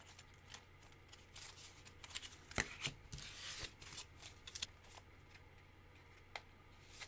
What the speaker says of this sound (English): The cards are slightly different sizes because I'm using protectors to make them. So they shuffle weird.